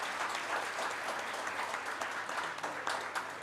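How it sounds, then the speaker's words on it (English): An audience at a leadership lecture at TAPMI gives a round of applause to a managing director. The hall is filled with continuous, fairly faint clapping from many people, heard steadily with no talk over it. "A big round of applause."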